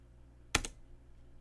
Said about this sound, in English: we just type /info.ps1, and we can use autocomplete here once again